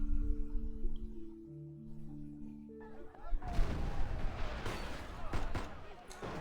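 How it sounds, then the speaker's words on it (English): Gunfire erupts in a Love and Deepspace game scene, mixed with crashing tables and chairs, a burst of sharp noisy impacts that breaks in after a few seconds of calm tonal music. "Gunfire and the sound of tables and chairs getting knocked over intermingle with N109 zone slang I don't understand."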